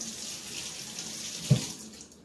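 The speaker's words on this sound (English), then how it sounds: "Let me rinse my hands." Water running from a kitchen tap as hands are rinsed, a soft steady hiss with a brief splash near the end before the flow fades out.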